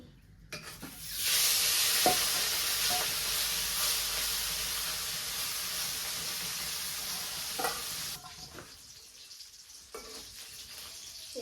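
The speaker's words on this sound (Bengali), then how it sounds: "কড়াই তো তাপে গেছে গা, মাছ দিয়ে দেবো।" Fish frying in a hot kadai, a loud, steady sizzle that starts abruptly and holds for several seconds before cutting out, followed by faint clinks and quiet room sound.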